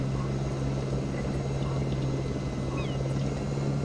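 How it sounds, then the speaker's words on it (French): Steady, droning rotor hum of a helicopter in the video game Jurassic Park: Operation Genesis, constant and moderately loud with a strong low tone, no talking. "Ça sera plus rapide avec l'hélicoptère."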